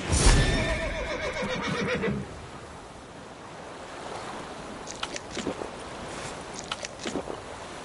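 A horse in The Witcher 3 gives a loud, close whinny in the opening two seconds, then quieter hoof clops and faint splashing and rustling follow.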